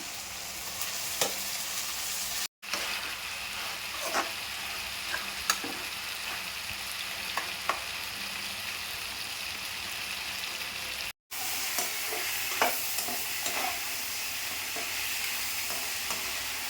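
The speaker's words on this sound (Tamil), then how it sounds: "சட்னிக்கு வெங்காயம் தக்காளி வதங்குது." Steady sizzling and crackling of onions and tomatoes sautéing in a pan, with occasional stirring scrapes, continuous and close, no voices.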